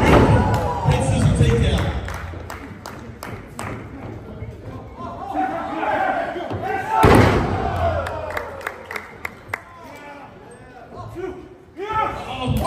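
Lucha libre six-man tag bout where a wrestler is taken down hard onto the ring mat, heavy thuds and slams ringing out amid crowd noise and a commentator talking over the action.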